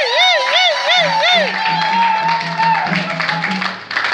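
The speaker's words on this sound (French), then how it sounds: "Acclamons notre Seigneur." Wedding guests at a church ceremony cheer loudly and close by, with a high warbling ululation, raised voices and scattered clapping running together.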